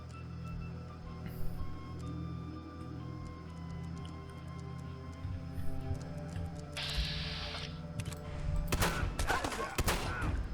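Shotgun blasts in Fallout 4, a few loud booming shots with sharp broadband bursts near the end, over continuous game background ambience.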